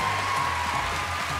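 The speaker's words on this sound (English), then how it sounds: "Clap for him because I can't." Talent show audience clapping, a soft, even patter of applause over a low musical hum, steady and moderately distant for the short stretch.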